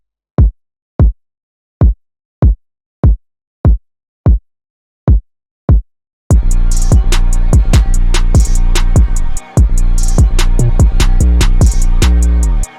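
A kick drum run through a soft clipper on the master, first as about ten evenly spaced, punchy booming hits alone, then continuing under a dense beat with hats and other layers that stops briefly before resuming.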